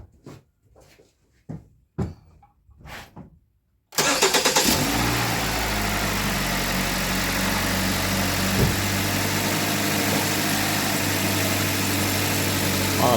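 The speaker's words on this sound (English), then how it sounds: "Oh, the engine runs really smooth." A Kia/Hyundai 2.0L/2.4L engine with a leaking valve cover cranks and fires after a few separate clunks, then settles into a loud, steady, even idle that runs to the end.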